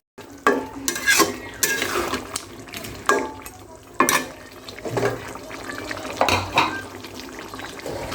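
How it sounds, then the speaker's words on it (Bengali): Chicken from a native laying hen sizzles in a pot for bhuna khichuri while a spoon scrapes and stirs it repeatedly, sharp clanks landing every second or so against a steady frying hiss. "ভালো মতো কষিয়ে তারপর আমি কিছু পানি অ্যাড করে দিলাম"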